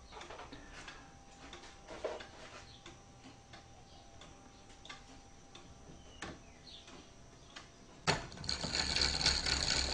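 A mechanical calendar and orrery advances its day, its gears giving faint, irregular ratcheting ticks and clicks, followed by a louder burst of mechanical rattling near the end.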